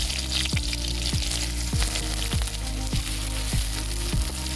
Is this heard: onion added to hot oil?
yes